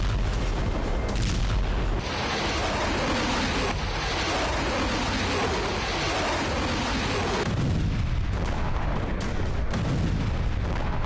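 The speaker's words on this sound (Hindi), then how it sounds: "ईरान के राष्ट्रपति इब्राहिम रईसी के इशारे पर हिजबुल्लाह ने इजराइल पर रॉकेट और बड़े मिसाइल हमले तेज कर दिए हैं" Rocket and missile attacks on Israel produce a dense, continuous roar of booms and blasts, with heavy rumbling impacts layered over sustained noise, loud and close throughout with no voices.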